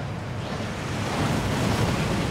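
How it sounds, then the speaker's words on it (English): Waterfall in the video game Hogwarts Legacy, a dense constant rush of falling water, moderately loud and steady, swelling slightly toward the end with no voices. "That waterfall washes away all enchantments."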